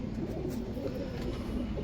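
Old-breed pigeons coo softly and continuously in a low, faint murmur with no one talking.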